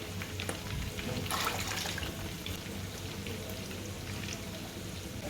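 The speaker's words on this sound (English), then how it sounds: "I'm trying to add my water." Water pours from a container into a cooking pot of turkey stock at home, a steady splashing trickle running through the clip under faint background noise.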